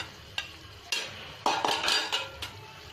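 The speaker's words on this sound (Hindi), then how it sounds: "अच्छे से मिक्स करेंगे।" Chicken is stirred together with vegetables in a pan, with a few close metallic scrapes and clinks of a utensil against the pan and a faint sizzle beneath, without speech.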